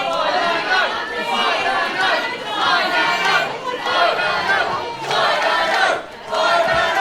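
A wrestling crowd roars and chants continuously, dense cheering and shouting with a brief dip near the end before swelling again, loud and close throughout.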